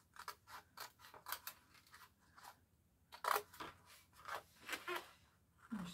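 Scissors snip through folded card, trimming a piece away along the crease for a handmade card and pouch; a run of short, crisp cutting bursts comes close up and fairly quiet, with small pauses between strokes and no talking.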